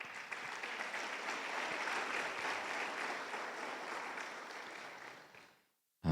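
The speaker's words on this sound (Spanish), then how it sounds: "Démosle palmas a Él." Church congregation clapping together in a broad, steady wash of applause that holds for about five seconds, then fades and cuts off.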